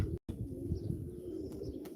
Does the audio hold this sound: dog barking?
no